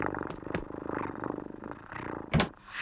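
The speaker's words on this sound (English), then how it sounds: "I thought I heard purring in the cupboard." A cartoon cat purrs inside a cupboard, a close rhythmic rattling purr that rises and falls in steady pulses with a brief louder burst near the end, no speech.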